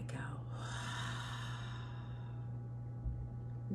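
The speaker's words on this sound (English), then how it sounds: "Exhale, let it go." Slow, soft exhale during a guided breathing exercise, a faint airy breath under a low steady hum, fading gradually over a few seconds.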